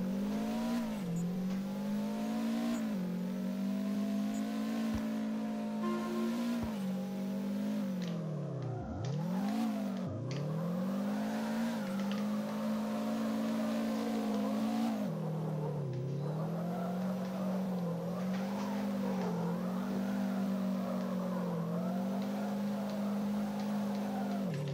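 A Subaru WRX STI engine in CarX Drift revs hard and steadily for the whole stretch while the car slides through drifts, the pitch swooping down and back up at each gear change or lift, with faint tire squeal mixed in.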